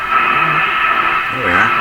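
An RCA Victor A23 tube radio tuned between shortwave stations gives off a loud, steady hiss of static, with warbling whistles sliding through near the end.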